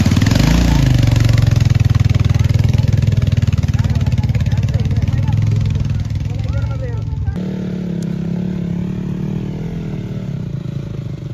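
A motorcycle engine labors loudly and steadily on a rough mountain road near Bethanchowk, Nepal, with voices mixed in, then cuts out about two-thirds through, leaving a quieter low rumble.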